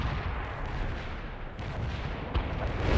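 Artillery fire support pounds away in the video game World in Conflict, a dense, continuous rumble of distant blasts with a sharper impact near the end and no talk.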